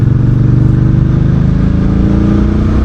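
A 2026 VOGE CU625 AMT motorcycle engine hums close and loud with a steady throbbing pulse, held near 3000 rpm as it pulls through a gear change.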